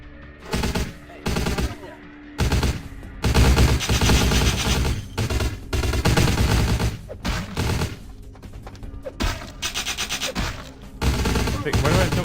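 Bursts of gunfire from a newly picked-up gun in the Vampire the Masquerade video game, loud, repeated volleys separated by short gaps, with rough rasping texture and some voice mixed in.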